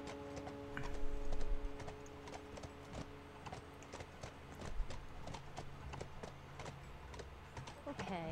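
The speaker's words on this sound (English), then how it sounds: "looks like I got a horse now" Horse hooves clip-clop in a steady rhythm through The Last of Us, a game setting at a university campus, with music and ambient tones underneath and occasional talk over them.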